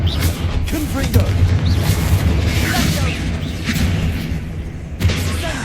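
Confringo blasting spell explosions in Hogwarts Legacy, part of a dense spell-casting fight: heavy booming blasts and crashes keep layering over each other without a break, with a voice shouting incantations over the battle noise.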